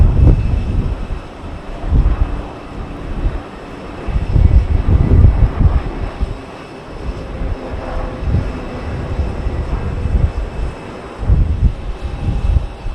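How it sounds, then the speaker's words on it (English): A British Airways Airbus A320neo airliner on landing approach at Heathrow gives a steady, loud broadband engine roar that swells and eases across the stretch, with no voices. "A320neo coming in from Berlin. British Airways."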